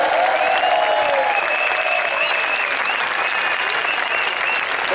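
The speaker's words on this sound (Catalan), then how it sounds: "Un aplaudiment, sisplau!" Loud, dense audience applause fills a gathering at a people's mock trial against the banks, steady and sustained throughout with a few sharper whistles or cheers rising above the clapping.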